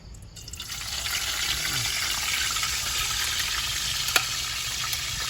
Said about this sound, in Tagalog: pipiritos ko na lang